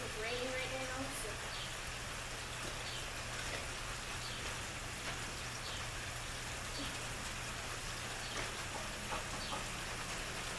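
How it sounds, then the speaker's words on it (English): Steady rain falls outdoors, a constant hiss that carries through the whole stretch, with faint speech-like sounds low in the mix. "we're going to make it pretty quick because it's raining right now"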